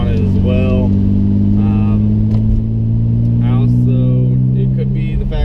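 BMW E46 with an aftermarket tune and a deleted secondary air pump, its engine holding a steady mid-rev drone throughout, loud and close, with someone talking over it for most of the stretch.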